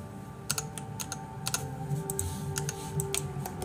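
A computer keyboard is typed on during a fish-raising game, with scattered irregular key clicks over a steady game background hum.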